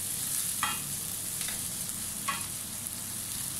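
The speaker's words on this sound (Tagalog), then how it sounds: "Ilalagay ko lang po ang sili. Para gisa po natin sa mantika para medyo umanghang po." Chili sautéing in oil with garlic, onion and ginger gives a soft, constant sizzle, broken by three short scraping stirs spaced evenly apart.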